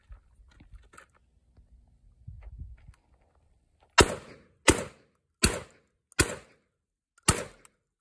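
Kalashnikov KS12 shotgun firing Winchester shells, five loud sharp shots in a quick irregular series, close, after quieter handling noises.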